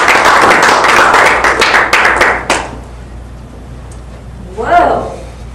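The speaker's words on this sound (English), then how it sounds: "I don't know if that was a round of applause" Applause at a Toastmasters club meeting, as a speaker is welcomed: a loud burst of scattered hand clapping that thins out and stops after about two and a half seconds, followed by a short exclamation from a voice.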